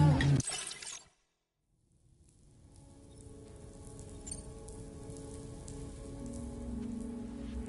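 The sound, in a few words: rain falling in Death Stranding 2 video game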